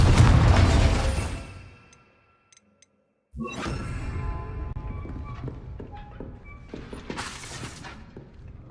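A loud burst from the Confringo fire spell in Hogwarts Legacy opens, fading into near silence. Then rumbling combat noise returns with crackling hits and a bright, sharp blast near the end.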